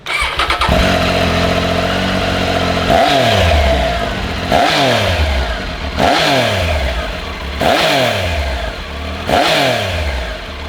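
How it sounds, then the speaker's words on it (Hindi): A BMW R 1250 GS fitted with an Arrow exhaust fires up and then revs hard five times in a row, each loud, close blip rising and falling back to a throaty idle, with no talking. "अभी की बाइक को हम स्टार्ट करके इसका एरो का एग्जॉस्ट सुनते हैं।"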